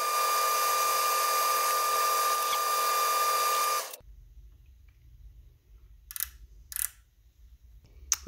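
A metal lathe takes a light facing cut of about two thousandths on a steel clamp part, giving a steady loud whining hiss with a tonal ring for about four seconds before cutting off to quiet with brief faint scrapes.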